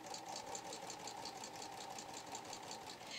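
Sewing machine running steadily with a lace applicator foot while stitching a flatlock seam, a continuous even mechanical whir with fast rhythmic needle ticking throughout, fairly quiet and alone.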